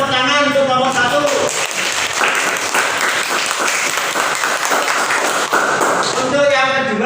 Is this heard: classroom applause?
yes